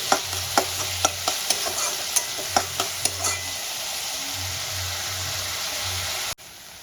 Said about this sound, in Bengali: পেঁয়াজটা আমি গোল্ডেন ব্রাউন হওয়া পর্যন্ত ভেজে নেব